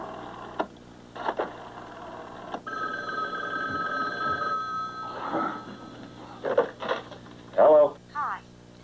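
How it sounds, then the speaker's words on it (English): A rotary telephone rings with a bright bell tone while muffled voices and dialogue continue underneath, the ring sustained for a couple of seconds amid intermittent talking. "On my rotary phone."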